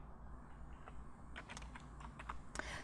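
Quiet typing on a computer keyboard entering a word in PowerPoint 2013, a short run of soft, irregular key clicks over a steady low hum, with no one talking.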